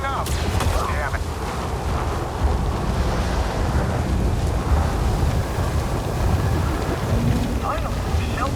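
Heavy rain pours steadily through a thunderstorm in the video game Star Wars Jedi Survivor, with low rumbling thunder underneath and a voice speaking over the constant downpour.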